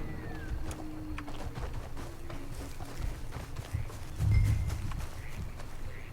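Horse hooves in the video game Red Dead Redemption II, a run of soft, fairly close clip-clop steps on the ground at an uneven walking pace, with one heavier thud partway through and no talking.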